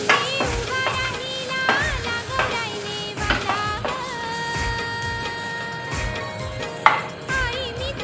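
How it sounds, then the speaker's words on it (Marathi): Peeled field beans stir-fry in a pan with turmeric, red chili and garam masala, giving a loud close sizzle with scraping and clinking of a spoon against the pan as they are stirred. "हे सोललेले जे वाल आहे हे याच्यामध्ये छान परतून घ्यायचे आहे"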